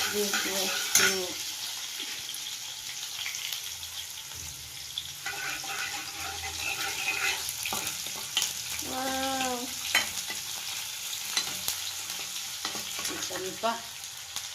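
Onions and curry leaves fry in a pan, giving a continuous close sizzle broken by scraping stirs and clinks of utensil on metal, with brief household noises in the background.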